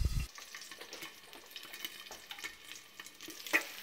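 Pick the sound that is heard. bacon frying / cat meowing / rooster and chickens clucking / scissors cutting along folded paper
bacon frying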